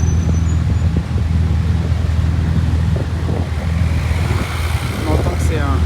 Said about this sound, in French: On entend que c'est un véhicule.